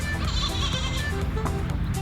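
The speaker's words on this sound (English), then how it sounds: "The crazy goat in the car, better take her home." A goat inside a car bleats repeatedly at close range, wavering cries layered over a low, steady interior rumble.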